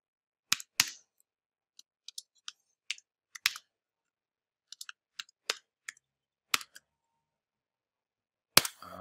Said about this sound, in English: just hit the tab key